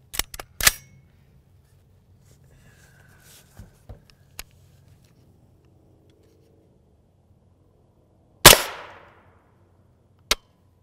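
Rifle fire from a 10.5-inch Palmetto State Armory upper fitted with a Yankee Hill Phantom M2 30-cal suppressor, shooting at a steel plate outdoors: a few sharp cracks at the start, a long quiet stretch, then two loud shots near the end.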